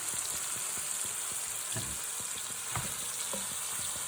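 Ingredients are stirred into a sizzling pan, producing a constant bright frying hiss with soft rhythmic scrapes and taps of the utensil throughout.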